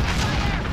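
A C4 charge detonates in the shooter game Warzone, a brief, loud, low rumbling boom that fills the short moment.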